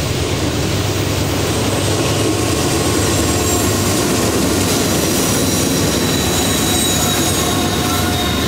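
A Norfolk Southern NS-20X intermodal stack train climbs a mountain grade, a loud continuous rumble of wagons and wheels with high squealing tones running throughout.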